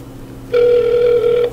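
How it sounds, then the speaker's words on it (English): An outgoing phone call's ringback tone sounds once, a loud, steady electronic ring of about one second that stands out clearly from a quiet room. "Okay, it's ringing."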